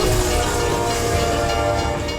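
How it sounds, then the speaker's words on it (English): Loud, close rumble and roar of a train passing at speed on rails, a dense continuous din with a faint horn tone inside it, heard just as the train strikes a car on a level crossing. "In the next moment, the train slammed into the vehicle."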